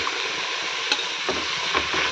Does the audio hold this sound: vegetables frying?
yes